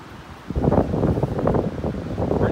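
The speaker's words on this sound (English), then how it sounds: "Pretty windy out on the beach." Gusty wind buffeting the microphone outdoors on a beach in North Naples, Florida, rumbling bursts that rise and fall against a constant rushing background.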